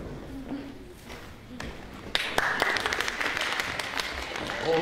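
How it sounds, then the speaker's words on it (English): Applause from a small audience at a university theatre event for a Macbeth production, starting as scattered taps, then swelling into a steady burst of clapping that continues to the end. "Hold your applause."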